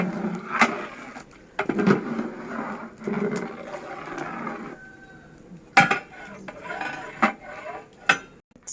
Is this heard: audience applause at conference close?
no